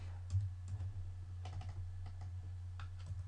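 Keys on a computer keyboard are tapped while editing code, scattered soft clicks in short bursts over a low steady hum, close to the microphone.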